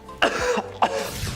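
A person gives two sharp, close coughs a fraction of a second apart, with a short rasping tail after each.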